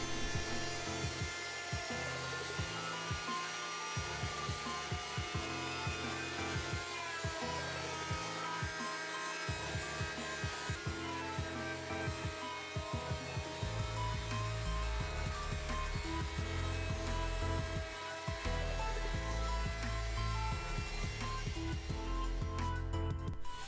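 A router cuts a roundover along the underside of a walnut tabletop, a loud, steady high-pitched whine with rougher bursts and dips as the bit moves along the edge, running continuously for over twenty seconds.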